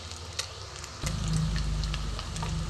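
Rohu fish balls frying in hot oil, a quiet background that jumps into a dense, steady sizzle with scattered crackles and pops after the first second.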